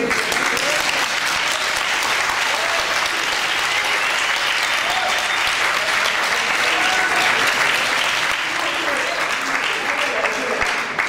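Sustained audience applause at a school speaking contest fills the room, dense and steady throughout, with a faint voice briefly audible beneath the clapping.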